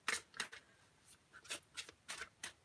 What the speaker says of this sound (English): Last 2 shuffles.